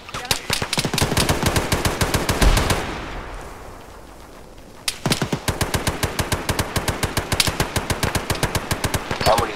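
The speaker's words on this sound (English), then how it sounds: "So much shooting and so few people to see." Rapid automatic gunfire from an Arma 3 battle sounds as a loud, steady stream of shots. It breaks off for about two seconds into a fading echo, then resumes as sustained bursts.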